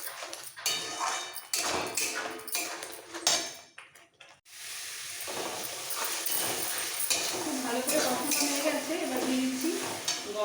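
A South Indian egg curry masala of red chili powder and a pinch of sugar is stirred in a pan. Irregular scraping and clinking of a spoon against metal comes close up, pausing briefly midway before resuming.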